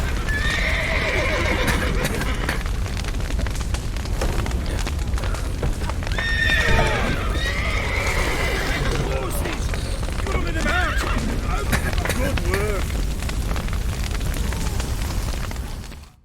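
Horses in The Witcher 3 whinny and neigh repeatedly over steady hoof clip-clop, set amid a loud, rumbling scene of smoke and a burning, collapsing building, with voices now and then.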